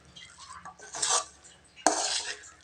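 Grated coconut is stirred into peas in a cooking pan, a spoon scraping and clinking against the metal in two loud close bursts, with no voices.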